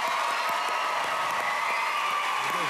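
A television talent show audience claps steadily for a performer's mother, a dense, even patter of many hands with no pauses and little speech.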